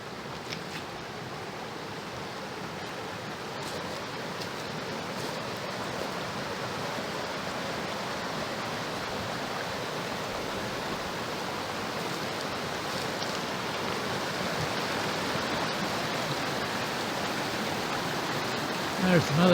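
A creek at Iron Creek campground rushes loudly and continuously, a dense close roar of churning water that holds steady throughout.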